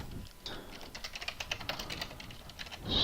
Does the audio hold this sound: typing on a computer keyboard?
yes